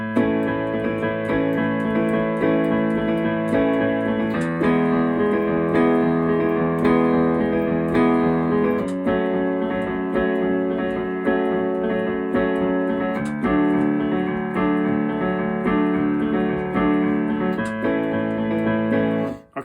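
Piano playing the rhythm of a song with steady four-on-the-floor chords, repeated evenly beat after beat, with short gaps at chord changes, played close and solo for the whole stretch.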